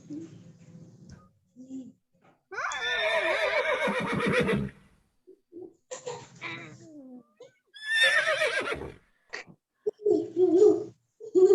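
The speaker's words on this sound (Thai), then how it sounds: "เสียง ม้าเวลาเสียงม้ามันร้องร้องยังไงคะ" Two loud, quavering horse whinnies ring out close by, separated by a pause, with scattered speech and short vocal bursts around them.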